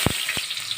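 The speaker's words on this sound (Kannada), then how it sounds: "ಕಟ್ ಮಾಡಿರುವಂತಹ ಈರುಳ್ಳಿಯನ್ನು ಹಾಕೋಬೇಕು." Chopped onion dropped into hot cooking oil with mustard seeds, giving two short sizzling bursts followed by a steady soft frying hiss.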